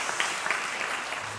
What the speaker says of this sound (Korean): 우리 감사의 박수 한번 보내주시면